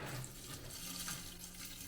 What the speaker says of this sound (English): room temperature water, not freezing, not hot, just room temperature, and just pour it gently in